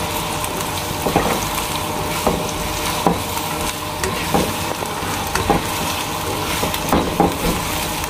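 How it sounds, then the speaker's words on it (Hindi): Onions fry in hot oil in a cooking pot, a continuous crackling sizzle broken by periodic stirring clacks and scrapes, close and steady throughout. "और अब मैं इसमें ये प्याज फ्राई करूँगी"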